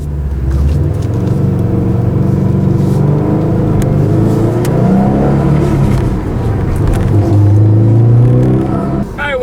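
A 2016 Subaru WRX STI on the move, its engine droning loud and close from inside the car, rising steadily under acceleration with shifting harmonics and a constant rumble of road noise.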